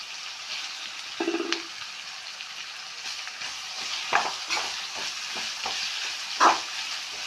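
Sliced onions, slit green chillies and curry leaves, salted, fry in a pan with a steady hiss, broken by several stirring scrapes and clinks, and a brief hum near the start.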